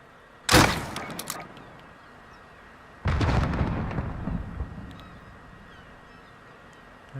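A weapon firing a spawn tube in the video game Modern Warfare: two sharp, loud booming shots about two and a half seconds apart, the second trailing off in a longer rumbling tail, with no voices.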